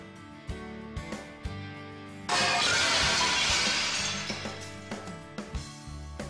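A 3.4 kg wooden ball swings into a pane of 10mm normal glass, which bursts in a loud, sudden shatter partway through. Crashing and tinkling shards fade over a few seconds, with soft knocks before and after.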